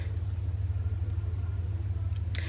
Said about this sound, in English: it's someone that's idling their car out the front with their music choice.